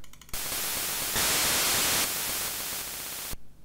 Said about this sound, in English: this is basically really the highest note you can play in a noise channel